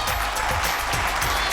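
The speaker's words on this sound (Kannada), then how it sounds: "ಬರ್ಲಿ ಜೋರ ಚಪ್ಪಾಳೆ." A studio audience claps steadily at a TV show taping. The applause is dense and even, with faint low thumps underneath, and lasts for the whole short stretch.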